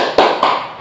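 Children clap in rhythm for a tepuk semangat cheer: two sharp, close hand claps about a quarter second apart, loud and clear against a quiet room.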